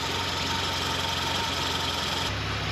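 A Datsun 510 rally car engine idles just after its restoration and first start, a steady close hum with a low throb that shifts slightly near the end, and no one speaks.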